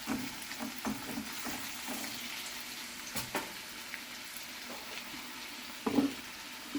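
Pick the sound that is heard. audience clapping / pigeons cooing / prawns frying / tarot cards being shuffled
prawns frying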